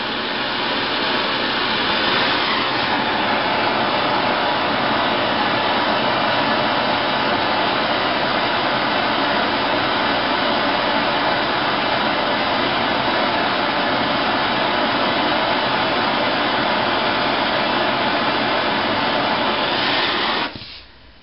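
A torch roars steadily while heating a steel screw head to a dull red glow, a loud continuous blast of flame that holds for about twenty seconds before cutting off abruptly.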